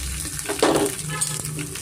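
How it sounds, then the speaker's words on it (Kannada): Chana dal, urad dal and crushed garlic tempering in hot oil give a steady close sizzle, with a brief louder crackle and a faint clink of a utensil. "ಸ್ವಲ್ಪ ಕಡಲೆಬೇಳೆ ಉದ್ದಿನಬೇಳೆ ಒಗ್ಗರಣೆಗೆ ಸ್ವಲ್ಪ ಬೆಳ್ಳುಳ್ಳಿ"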